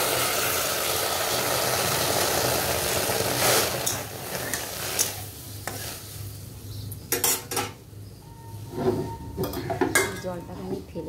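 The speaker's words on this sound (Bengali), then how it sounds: "এবার ডালটাকে একটু জল দিয়ে ধুয়ে নেব।" Mung dal washed with water in a cooking pot, first a steady rushing of water, then clattering pot and metal-on-metal knocks and swishing as the lentils are rinsed, close by and without speech.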